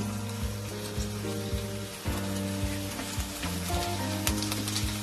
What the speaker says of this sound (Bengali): তেলটা গরম হয়ে গেছে। তেলের মধ্যে দিয়ে দেবো রসুন কিমা